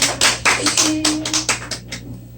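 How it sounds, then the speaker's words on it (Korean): A church congregation gives a short round of encouraging applause after a prayer, a burst of hand claps that starts strong and quickly thins into a few scattered claps as it fades. "네, 우리 격려의 박수."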